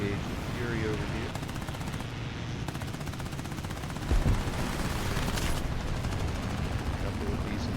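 A Ki-10 biplane in War Thunder fires its machine guns in a long, fast rattling stream over steady engine drone, with a person talking throughout.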